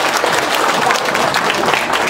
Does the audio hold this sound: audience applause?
yes